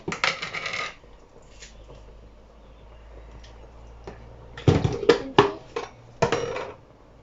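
Maggi seasoning cubes dropping into a pot of spinach soup, a few sharp clinking taps at the start, then a quiet gap, followed by a cluster of louder knocks and clatters against the pot.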